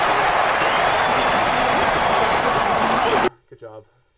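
A stadium crowd roars loudly and continuously after a touchdown run in a USFL football game, a dense wall of cheering that cuts off abruptly, followed by brief faint talk.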